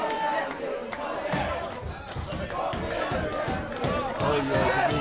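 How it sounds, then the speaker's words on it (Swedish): An audience at a Stockholm wrestling event chants "kom igen" in a dense, continuous crowd roar with rhythmic shouting, punctuated by thuds and slams from the ring. A commentator talks over it throughout. "publiken säger kom igen igen"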